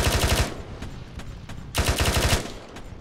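Rapid automatic gunfire in the military video game Arma 3 comes in two loud, close bursts of fast shots, with scattered single cracks in between.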